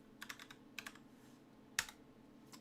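Someone types a short word on a computer keyboard. A few quiet clusters of crisp keystrokes sound close by against a low background hum.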